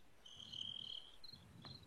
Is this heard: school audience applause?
no